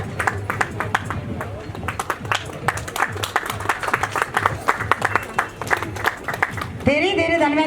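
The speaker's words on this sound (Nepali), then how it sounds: "जोरदार ताली मेरो लागि पनि" Applause from an audience at a picnic gathering, heard as scattered clapping and crowd noise running beneath a talking voice, with a brief musical tone near the end.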